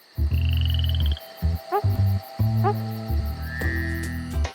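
Australian frogs croaking, loud, close, deep rasping calls in repeated bursts with short gaps, joined by higher whistling chirps above them.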